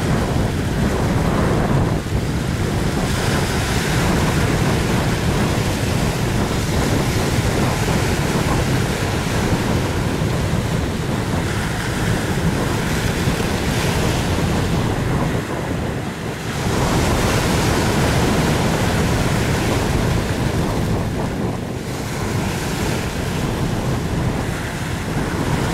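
Big sea waves pound an iron boat just after it heads out to sea, with a sustained loud roar of surf, recurring surges, and heavy wind rumble on the microphone, and no one speaking.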